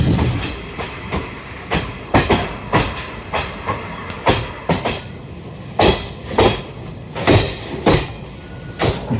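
Kirandul passenger train running on rails toward Araku through hilly agency country, steady loud clickety-clack of wheels over rail joints in a regular repeating rhythm, close and continuous with no talk.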